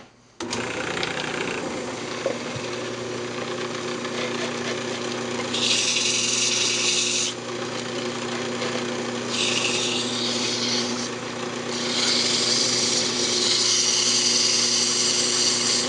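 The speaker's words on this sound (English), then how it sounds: "Now go ahead and sand it up." Sandpaper rubs against a spinning wooden lidded box on a woodturning lathe, a steady close whir from the lathe with loud bursts of hissing abrasion as the paper is pressed on in several passes.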